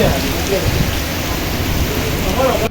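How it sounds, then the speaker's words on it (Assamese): Heavy monsoon rain pours down at Tiyok in a dense, constant roar, with a voice faintly heard under the downpour. "তিয়কত ধাৰাসাৰ বৰষুণ দি আছে"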